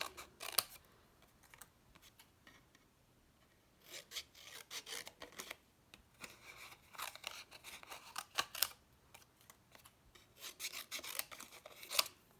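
Scissors snip through paper strips for a garden greenhouse craft project in a series of short, close, crisp cuts and rasping slides, irregularly spaced with quiet gaps between them and no talking.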